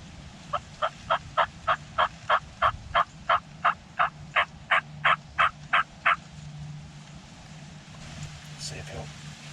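A wild turkey gobbling outdoors during turkey season near decoys: a run of about sixteen evenly spaced, loud gobble pulses over several seconds, then quieter ambient noise.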